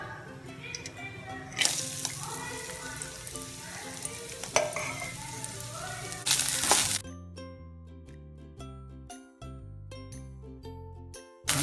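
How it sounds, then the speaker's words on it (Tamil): Coconut pieces frying in hot ghee sizzle and crackle steadily, with occasional clinks and stirring sounds, before music takes over toward the end. "அந்த நெய்யில் வறுக்கேன்."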